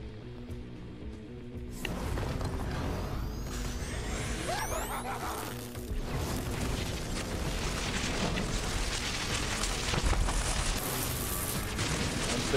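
Grenades explode in Borderlands 3 as a dense, continuous barrage of booming blasts with sweeping whines and crackling debris, loud and sustained, building from a quieter start with no talk over it.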